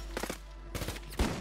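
Sniper gunfire in Call of Duty Warzone Resurgence, heard as three short, sharp bursts of shots spread across a second and a half, loud and close over a low game background.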